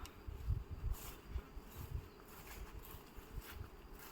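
Bees hum at a hive in a faint, continuous drone outdoors, with low rumbling handling noise underneath.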